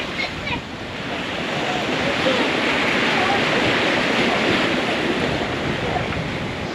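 Steady wind and rushing waves wash continuously around a 45-year-old Kelly Peterson 44 sailing dead downwind in about 20 knots of wind at over 11 knots, a broad, loud roar of water and air with microphone buffeting.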